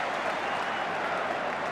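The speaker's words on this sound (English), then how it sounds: "the applause is ringing down from the North Bank" Crowd applause ringing down from the North Bank stands at a 1984 Arsenal v Liverpool football match: a steady, distant wash of clapping from a large crowd, dense and even throughout the brief moment.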